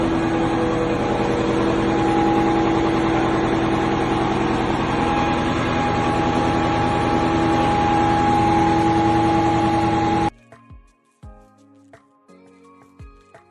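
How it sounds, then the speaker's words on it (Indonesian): A ship's main diesel engine runs loud and steady with a constant tonal drone for about ten seconds, then cuts off abruptly, leaving only faint scattered clunks and a quiet background. "Mesin induk kapal, jantung penggerak yang memungkinkan kapal besar berlayar melintasi lautan luas."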